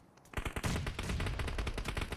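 Rapid automatic gunfire crackles through a PUBG Mobile esports match on the Erangel map, with a quieter opening before dense, overlapping bursts of shots and blasts rattle on without pause.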